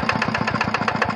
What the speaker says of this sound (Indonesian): mesin tampak sudah dihidupkan kawan-kawanku